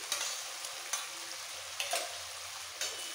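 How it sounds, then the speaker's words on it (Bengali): Rohu fish masala sizzles steadily in a pan after whisked yogurt is added, a dense close-up frying hiss broken every second or so by sharp scrapes of stirring, with no voices. "এবার দই দিয়েও একটু কষিয়ে নিতে হবে"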